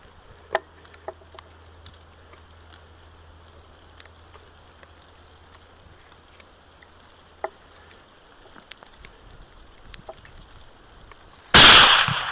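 A single rifle shot fired while hunting feral hogs outdoors, a sudden loud blast near the end after a long stretch of quiet ambient background.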